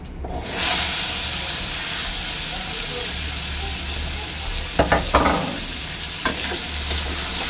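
Chopped potatoes added to hot oil tempered with five-spice and a dried red chilli, giving a loud, steady sizzle and hiss close up, with a few brief scraping clatters of stirring near the end.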